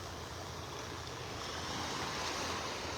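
Ocean surf at high tide on a beach in North Naples, Florida, roars as a continuous broadband wash, with steady wind noise.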